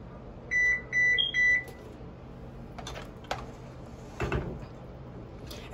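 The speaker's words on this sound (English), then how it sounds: "I'm gonna preheat my oven." A kitchen oven control panel emits three short electronic beeps as it is set to preheat, followed by faint clicks and household clatter, close and with no talking.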